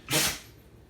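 A single short, breathy dog sneeze bursts out close by, then fades into quiet room tone.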